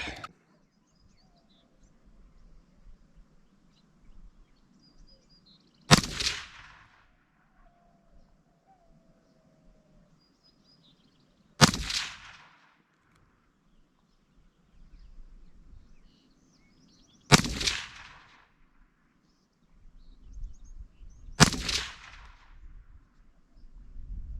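Heckler & Koch HK300 rifle fires five rounds: sharp, loud single shots spaced several seconds apart, each with a short echoing tail over a quiet outdoor background.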